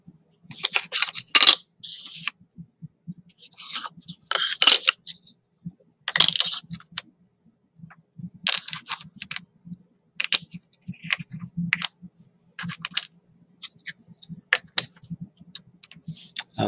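Laser-cut quarter-inch wooden tangram pieces clack and tap together as they are fitted on a surface, a series of close, crisp knocks in irregular clusters with quiet gaps and no talking.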